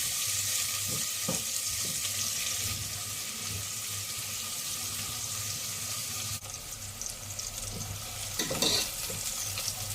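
Softening onions fry in a pan for spicy noodles, with a dense, steady hiss of oil throughout and a few scraping stirs, heard up close and fairly loud with nobody speaking.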